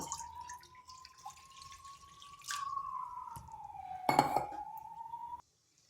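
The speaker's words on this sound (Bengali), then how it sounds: "দিয়ে দিচ্ছি জল" Water poured into a wok while making pua pitha (jaggery rice cakes), a thin steady trickle with clinks of metal, a brief louder splash near the end, then quiet; close and without talk.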